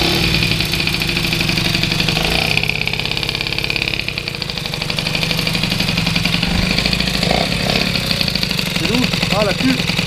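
An old engine idles roughly after being restarted, a steady mid-pitched mechanical drone with uneven pulsing that runs the whole time, close by, while people talk over it.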